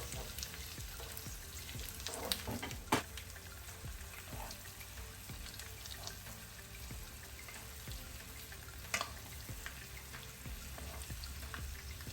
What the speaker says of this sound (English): I left some more of the honey and I'm pouring it on there, and I'm just gonna baste again.